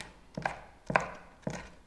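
A knife slices seeded, fairly spicy fresh chili peppers thinly on a cutting board for chimichurri, giving three crisp, evenly spaced cuts close to the mic.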